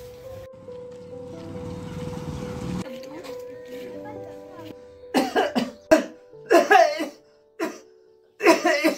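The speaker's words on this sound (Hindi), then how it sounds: "इतनी खांसी चल रही" A man coughs repeatedly in harsh, close bursts, several in quick succession and then another pair after a pause; a steady tone and a burst of noise come before the coughing.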